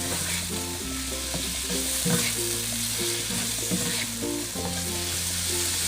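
Minced pork and stink beans stir-frying in a hot pan, a steady loud sizzle with spatula scraping and stirring throughout, close up and alone with no talking.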